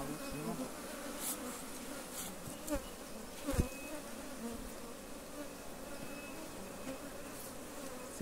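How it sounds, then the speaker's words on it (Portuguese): Honeybees swarm around an open hive during propolis harvesting, a dense steady buzz close by with a few sharp knocks and louder passes of individual bees. "Olha o tanto de abelha."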